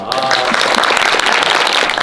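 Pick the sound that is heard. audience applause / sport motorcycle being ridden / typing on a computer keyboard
audience applause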